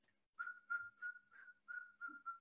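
A child whistles a steady pitched note in about seven short repeated bursts with brief gaps, fairly close and soft, with faint background noises between.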